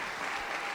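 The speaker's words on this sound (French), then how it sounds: "Merci pour ceux qui acclament" Applause from a church congregation during a Christian sermon, a steady broadband patter of many hands clapping throughout, fairly distant and even, with no voice over it.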